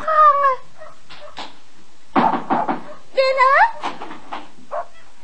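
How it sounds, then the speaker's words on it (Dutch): Knocking on a door in a Dutch comedy radio play set in a law office, a few quick raps mixed in with voices talking. "Ik heb al 3 keer geklopt."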